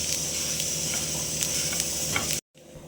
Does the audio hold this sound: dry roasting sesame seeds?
yes